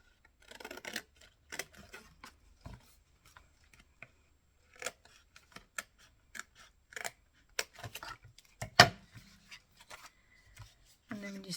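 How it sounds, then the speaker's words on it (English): Scissors snip through paper for a small handmade mini file folder in short, close, separate cuts and crisp bursts, spread irregularly with quiet gaps between them. "So I'm going to cut that off."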